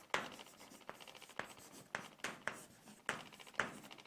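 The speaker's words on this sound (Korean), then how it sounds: "이제 이 사람들에 이어서 등장하는 파르메니데스와 헤라클레이토스 이름을 다시 써보겠습니다." Someone writes the philosophers' names Parmenides and Heraclitus on a board during a lecture, making eight or so crisp, evenly spaced strokes that scratch and tap at close range, with no talk.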